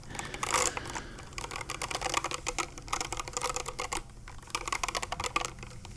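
Rapid typing on a mechanical computer keyboard with cream and gray keycards, dense clicky keystrokes in an uneven, continuous patter, close and crisp, recorded for ASMR with no voice present.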